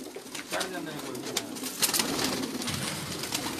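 Pigeons coo in a loft, low soft calls repeating through a steady bed of chatter and background noise.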